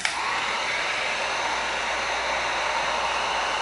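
A heat tool blows hot air on EVA foam to bend it: a steady, loud, breathy whoosh of airflow, constant and close throughout with no other sounds.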